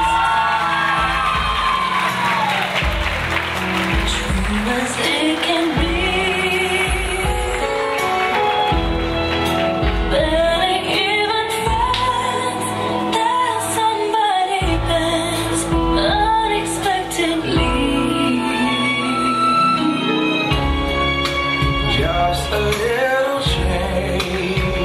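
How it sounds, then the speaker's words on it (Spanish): At a quinceañera celebration, a crowd cheers and whoops loudly and without letup, with shouts and yells mixed in over loud music for the whole stretch. "El aplauso que se oye."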